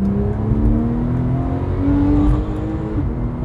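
A Porsche 911 Black Edition with a naturally aspirated engine accelerating, its loud engine note climbing steadily in pitch, easing briefly and climbing again, with no voices over it.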